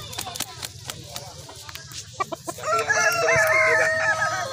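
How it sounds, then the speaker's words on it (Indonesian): A Japanese shamo rooster clucks a few times, then lets out a long, loud crow close by, with voices faintly in the background. "Ayam samu, ayam Jepang."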